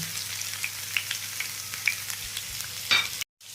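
Ginger and garlic fry in hot oil with a dense, even crackling sizzle close up, a few utensil taps over it, ending abruptly in silence.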